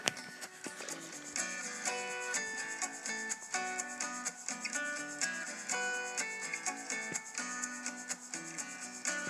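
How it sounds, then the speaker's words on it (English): Pliers are ground against the drive wheel of a 6-inch belt sander, a continuous rough rubbing and grinding with rhythmic surges as the piece is rotated, fairly faint and steady throughout. "we're going to use the drive wheel of the 6-inch belt sander to get that nice curve into that finish"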